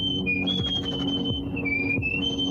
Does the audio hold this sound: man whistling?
yes